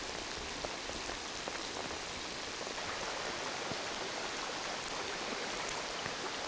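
Rain pours steadily beside a stream near Sitka, Alaska, making a dense, even hiss of drops on water and surfaces that continues unbroken throughout, with no voices.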